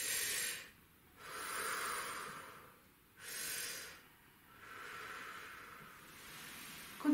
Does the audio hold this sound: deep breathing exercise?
yes